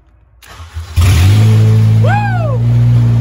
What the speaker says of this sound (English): Can you believe a car will still crank up and run?